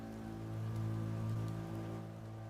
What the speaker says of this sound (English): Do I have a rain background? I have kind of a rain background.